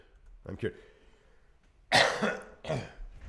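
Someone coughs and clears their throat in a few rough bursts, close up, with a brief vocal sound before them.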